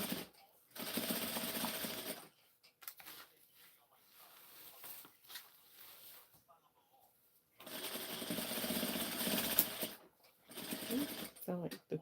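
Home sewing machine stitching a prom dress, running in two long sustained bursts with a loud steady mechanical whir, separated by a quieter pause with someone talking.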